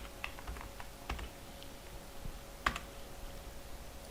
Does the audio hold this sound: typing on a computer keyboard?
yes